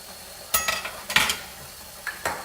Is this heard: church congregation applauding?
no